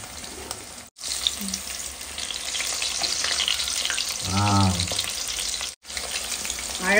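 KFC-style prawns deep-frying in oil over a medium flame, a dense, close bubbling sizzle that holds steady throughout, with a brief voice partway through and two short cuts to silence.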